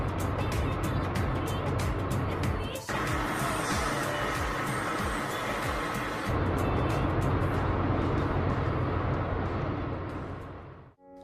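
A car being driven, its steady engine and road rumble running continuously close up, with a brief knock near three seconds and the sound dropping away at the very end; people talk over it.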